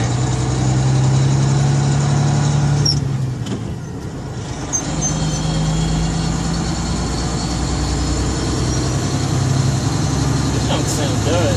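A truck diesel engine with turbo drones loudly and steadily from inside the cab during a gear change, dipping briefly mid-shift before the engine note rises again, with a voice talking over it.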